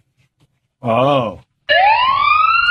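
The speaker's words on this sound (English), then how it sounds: "No, the siren." A siren sound effect played as a radio show bumper rises sharply and holds a bright, steady wail near and loud, following a short spoken exclamation and a pause.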